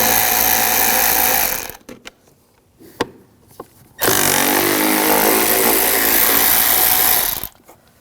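Power tool removing screws from the cowl of a 2006-2009 Audi S4: two loud, close bursts of buzzing motor whir, separated by a quieter gap with a few small clicks and knocks.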